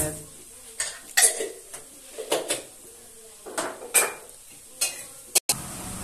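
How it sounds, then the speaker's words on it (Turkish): Onions and minced meat browning in a pan with tomato and pepper paste, heard as scattered clinks and scrapes of a spoon on cookware over a low sizzle, with people talking in between. "Soğanımız kavruldu kıymayla. Bir kaşık ya, salça, domates, biber salçası."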